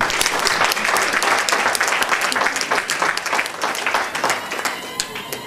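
A church congregation applauds and cheers in a dense, steady roar of clapping that holds at the same level throughout and fades a little at the end.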